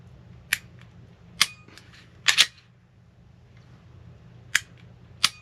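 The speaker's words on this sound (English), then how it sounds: "So look at that right there, trigger reset." A CZ P10C pistol trigger being pressed and reset: sharp, close metallic clicks, a single click, a quick double, then two more spaced apart, over a faint background hum.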